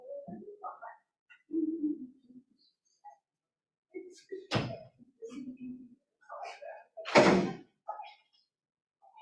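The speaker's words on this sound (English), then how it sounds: "she's back there ripping that door closed" A door is yanked shut twice, giving two sharp, heavy thuds several seconds apart, with people talking between and around them.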